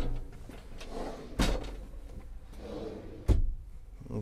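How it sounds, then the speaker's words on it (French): Low cupboard doors and drawers in a Dethleffs Globebus I 15 motorhome are opened and shut, giving two sharp, close knocks about two seconds apart, with soft rustling and handling noise in between. "les placards bas et tiroirs"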